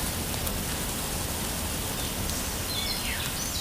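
Steady rain falls during a walk with a reactive dog, a dense, constant hiss that stays at one loudness throughout, with faint bird calls showing through near the end and no talking.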